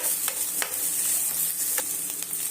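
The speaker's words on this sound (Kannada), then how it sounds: "ಇದು ಚೆನ್ನಾಗಿ ಫ್ರೈ ಆಗಬೇಕು ಈರುಳ್ಳಿ ಕ್ಯಾಪ್ಸಿಕಮ್ ಎಲ್ಲ ಚೆನ್ನಾಗಿ ಫ್ರೈ ಆಗಿದೆ" Finely chopped onion and capsicum sizzle steadily in a pan for egg gravy, a constant bright frying hiss punctuated by a few soft stirring scrapes, close up with no talk.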